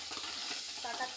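Paneer frying in a pan for a pea and cauliflower dish, a brief soft sizzle with faint crackle, close and quiet.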